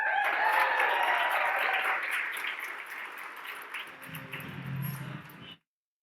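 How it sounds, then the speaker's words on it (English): Sustained audience applause fills a hall at a 15th anniversary storytelling celebration, a dense clapping wash that slowly thins and softens toward the end before stopping abruptly. "Another round of applause"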